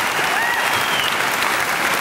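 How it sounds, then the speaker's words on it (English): Steady, dense applause from an audience honoring master's graduates in entertainment industry management at a 2011 diploma ceremony, filling the whole moment without pause. "Please join me in a round of applause for the graduates of the Master of Entertainment Industry Management"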